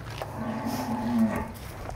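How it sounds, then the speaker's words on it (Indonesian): A giant cow standing at a weighing scale gives one low, drawn-out moo close by, rising and fading over about a second above faint background noise. "kita akan timbang waris sapi raksasa Gunung Kidul"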